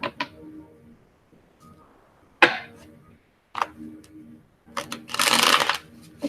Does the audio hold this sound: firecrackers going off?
no